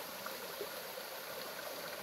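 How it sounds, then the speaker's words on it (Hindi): Water runs along a small mountain stream on an early-morning walk, making a steady, close rushing and babbling with no breaks and no voices. "गधेरे में पानी भी ठीक ठाक चल रहा है"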